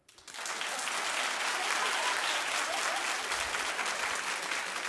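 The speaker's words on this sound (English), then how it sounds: "Clap if you thought it was possible when you were 23." Talk show studio audience claps in a thick, sustained wash of applause that rises within a fraction of a second and stays loud and even throughout.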